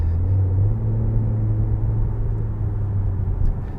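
A 2021 Infiniti Q60 Red Sport 400 AWD pulls hard under throttle, its engine a deep, steady droning rumble heard from inside the cabin, loud and continuous throughout.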